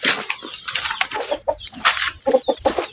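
Pet chickens cluck in a rapid, close cluster of short clucks and squawks, busy and irregular, with no talking.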